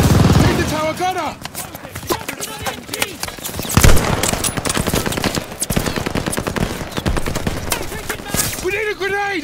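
Machine gun fire in Call of Duty: Vanguard, rapid sustained bursts of automatic shots rattling throughout, loud and close, mixed with shouted voices.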